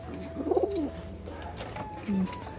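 Kalshira pigeons coo close by, one soft rolling coo early on and a shorter low coo near the end, over quiet background noise.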